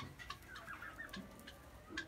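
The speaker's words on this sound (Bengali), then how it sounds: "তিতি মুরগি কিন্তু এতক্ষণ ডিম পাড়ার জন্য অস্থির হয়ে আসছিল" A hen clucks restlessly before laying an egg, a few short faint clucks at a distance over quiet background noise.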